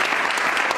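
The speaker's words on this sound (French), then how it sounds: "Et je voudrais qu'on les applaudisse aussi" Brief, steady applause from an audience at a French school ceremony, a close, dense patter of many hands clapping with no pause.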